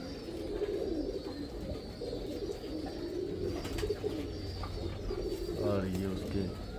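A teddy pigeon coos in soft repeated throaty rolls, close by, while someone speaks over the cooing.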